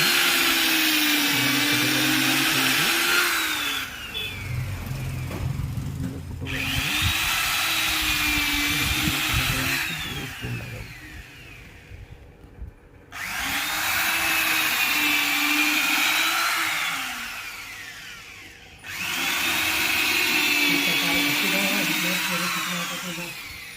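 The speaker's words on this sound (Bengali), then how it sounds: "আমি ড্রিল দিয়ে ফুটো করছি" An electric drill whines loudly in several long bursts, its pitch rising and dipping as it bores into wood, with short pauses between runs.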